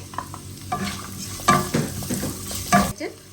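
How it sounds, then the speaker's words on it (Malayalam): Chopped medium onion and spices are roasted in a pan, a soft sizzle broken by several scraping stirs of a spoon, close up and with no talking. "ഇതെല്ലാം കൂടെ ഇട്ട് പച്ചമണം മാറുന്നത് വരെ ഒന്ന് റോസ്റ്റ് ചെയ്ത് കൊടുക്കുക."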